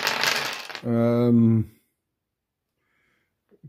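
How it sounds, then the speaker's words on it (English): Dice rattle and tumble briefly across a table during a tabletop game, followed by a short voice and then near silence. "You get so many dice. So goddamn many dice."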